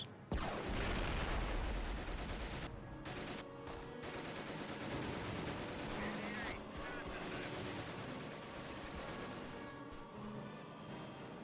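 Machine gun fire in a war video game, a loud opening blast followed by sustained rattling bursts and scattered shots that keep going under a busy battle din.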